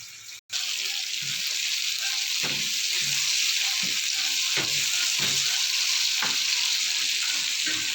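Flaked fish dropped into a simmering mung bean stew with alugbati greens gives a steady close sizzle and bubbling, broken by a few soft stirring knocks, with no talk.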